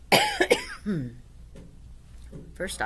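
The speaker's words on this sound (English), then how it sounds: "I still have my cough, obviously." A few harsh coughs up close, followed by throat clearing and a low groaning voice, then quiet before another brief cough.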